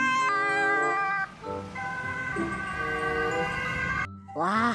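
A tinny electronic toy siren cycles through stepped wailing tones, close and steady, before a voice speaks excitedly at the end.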